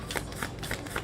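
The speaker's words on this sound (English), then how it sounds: "I ain't doing shit but shuffling cards" Playing cards are riffled and shuffled up close in a quick, steady rhythm of crisp bursts, with no talking.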